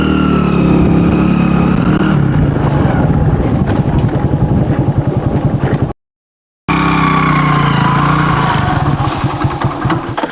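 An old, beat-up junk car engine drones and revs with a rough, rattling low chug, cutting out briefly before rumbling on loudly and close.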